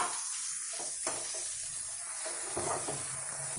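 Chopped beans and carrots sautéing in a pan for foxtail millet upma, a soft steady sizzle with a few brief stirring scrapes, quiet and close, no voices.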